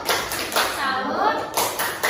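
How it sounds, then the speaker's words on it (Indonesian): Schoolchildren in a combined first- and sixth-grade class at an Indonesian primary school perform a tepuk salut clapping cheer, rhythmic group claps with childish voices chanting along. "Oke, tepuk salut buat kelompok 2."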